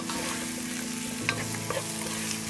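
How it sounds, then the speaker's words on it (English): Chopped onions sizzle and crackle in hot oil in a pan, a continuous close frying hiss broken by a few sharper pops and stirring scrapes, with a low steady hum beneath. "So the oil is heated enough, so I've added chopped onions to it."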